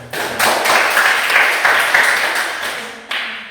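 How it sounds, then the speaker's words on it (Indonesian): A classroom of students bursts into dense applause that holds steady for about three seconds and then stops abruptly, with no voices over it. "Oke, mari kita beri tepuk tangan."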